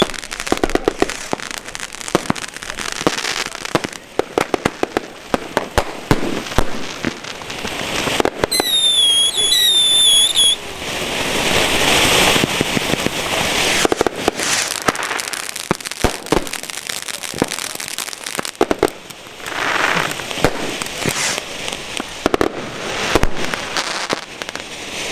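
A firework cake launches rapid volleys of shots that crack and pop in quick succession for over twenty seconds, with whistling bursts partway through, loud and continuous.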